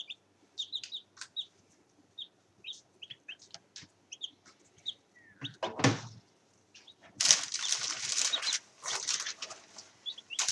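Meat chickens in a sawdust-bedded coop give short scattered clucks and peeps at close range, with a burst of wing flapping and scuffling midway and then a louder stretch of rustling activity.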